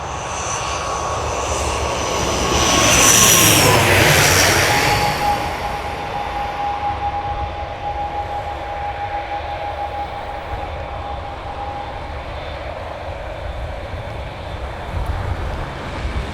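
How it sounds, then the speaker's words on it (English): An EVA Air Boeing 787-10 jet takes off bound for Tokyo, heard from about 250 meters behind. Its engine roar swells to a loud peak early on, then fades into a long, steady distant rumble. "787-10 from EVA Air that's about to take off in a second"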